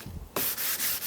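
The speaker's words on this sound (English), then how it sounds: "give it a couple of licks with the sanding block, and that sharpens that edge up on the shoulder again" A sanding block rubbed in a few quick strokes along the shoulder edge of a wooden furniture part for an armoire, the dry scratchy rasp loud and close, starting after a brief quiet moment.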